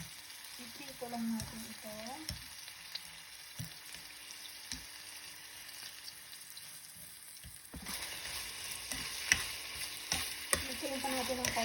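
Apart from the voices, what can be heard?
turkey meat frying and being stirred in a pan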